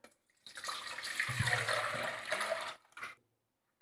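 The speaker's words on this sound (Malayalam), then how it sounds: "ഇനി നമുക്ക് ഈ ഒന്നര ലിറ്റർ വെള്ളം ഒഴിച്ചു കൊടുക്കാം" Water is poured into a homemade liquid hand wash mixture, a steady splashing stream lasting a couple of seconds before stopping, close and fairly quiet, with no talk.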